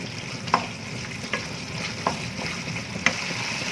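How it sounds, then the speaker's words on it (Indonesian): Broth brought to a boil in a pot on a stove while making pizza dough, with a steady bubbling, sizzling hiss and a few sharp clinks or stirs standing out, close and moderately loud with no talk. "Ini dimasak hingga kuahnya mendidih."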